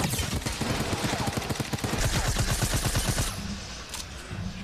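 Rapid automatic gunfire from the video game Fortnite rattles in a fast, dense burst during a Summer Skirmish tournament match at PAX West, loud and continuous before easing off at the end.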